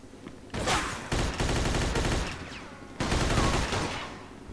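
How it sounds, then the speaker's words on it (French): Gunfire in the Mafia 2 video game comes as dense, rapid bursts of automatic shots, loud and close, with a short pause between volleys. "Il me tire dessus."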